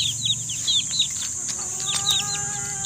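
Backyard chickens, including white hens, cluck and chatter close by in a busy, overlapping stream of short calls, with no speech over them.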